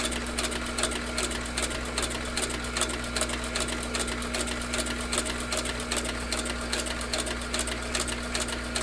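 Leather is fed through a sewing machine in a continuous, even, fast mechanical stitching whir with a steady hum beneath, close and loud, with no pauses.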